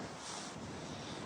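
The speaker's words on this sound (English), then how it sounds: "A bit windy, but put up with that." Steady wind buffeting a microphone outdoors on the Cemaes coastal path in Wales, a constant broadband roar with no voices.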